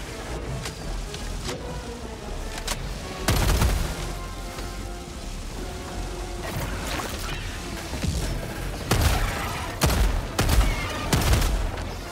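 Shotgun blasts in the co-op shooter Helldivers 2, sharp heavy booms scattered irregularly over a low battle rumble, some clustered near the end, with crashes and smaller pops between.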